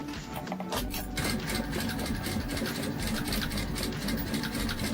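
A sewing machine stitches a custom bear cross body bag with a steady, close, mechanical whirring rhythm after a brief start-up, with no talking.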